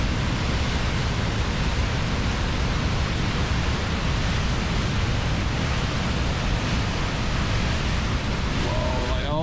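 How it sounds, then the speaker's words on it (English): The Reekie Linn waterfall in Scotland, with the river running high, roars as a loud, steady broadband rush of falling water that stays constant throughout. "I always just love coming to see this waterfall when the river's this high."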